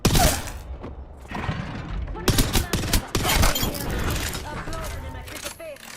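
Video game gunfire from sci-fi weapons, broadband crackling bursts and sharp shots that keep going through the clip, loud and close, mixed with game voice lines and other effects.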